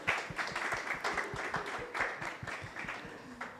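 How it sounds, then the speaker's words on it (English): A small audience applauds a panel member coming forward at a film and genre storytelling event, steady clapping from many hands at moderate distance, fairly soft and continuous. "A round of applause as she comes."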